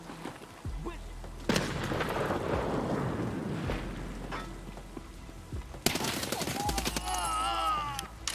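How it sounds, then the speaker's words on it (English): Grenades bursting in a multiplayer shooter game, heavy booming blasts with rumbling tails and a sharp later explosion, loud and close amid background gunfire, with a person talking over part of it. "That's nades at me!"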